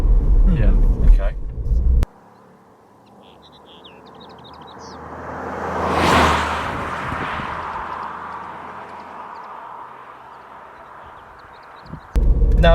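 A Ford Fiesta with a 1-litre EcoBoost petrol engine drives past, its engine noise swelling to a peak midway and then fading away, with voices briefly heard at the start and end.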